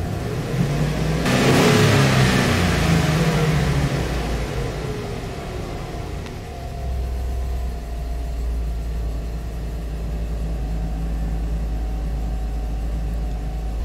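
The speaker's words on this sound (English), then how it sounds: "the engine has been running for about" A Chevrolet Express van's 6.0L engine runs steadily with a low, droning rumble, swelling briefly early on, then settling into an even idle close by; the engine is running cool from a faulty thermostat.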